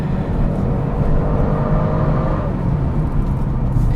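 A 2022 Genesis G70 3.3T rear-drive sport sedan's twin-turbo V6 revs high with a steady, loud, dense engine roar and turbo whir, held evenly throughout with no voices.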